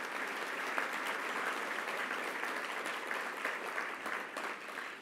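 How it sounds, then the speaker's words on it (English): Audience applause following a senator's line about the GI Bill at a national service awards ceremony, a steady, dense wash of clapping from a sizable crowd that holds evenly for several seconds, with no speech over it. "The GI Bill, that deserves a round of applause."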